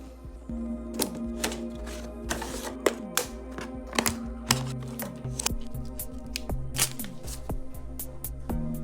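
A Transformers Studio Series 86 Leader Class Dinobot figure is unboxed: close, irregular plastic clicks, snaps and crinkles of packaging being pulled apart, with a faint steady hum underneath and no talking.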